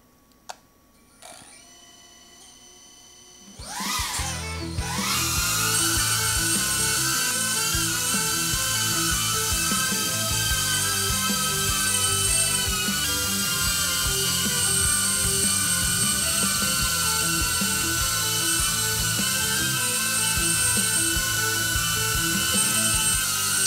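A DJI Avata FPV drone spins up and takes off after a few faint clicks, its propellers rising to a loud, steady high-pitched whine that stays close and constant with slight wavering in pitch.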